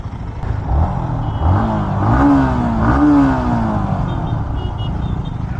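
Yamaha XSR 155 motorcycle engine revving up and easing off in a couple of swells, a close, steady mechanical drone with rising and falling pitch, no talking over it.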